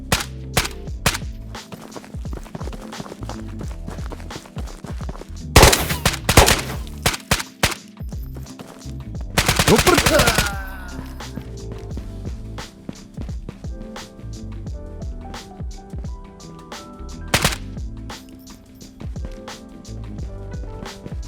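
Gunfire in the VR shooter Ghosts of Tabor rings out as rapid bursts and single shots over a steady bed of game noise, with dense, loud clusters of automatic fire partway through.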